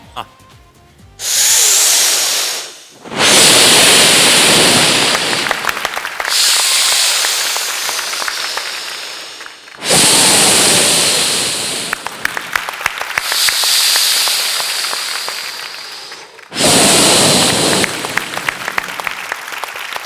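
A voice imitates ocean waves with loud breathy hissing whooshes, four surging swells separated by short pauses, close to the microphone.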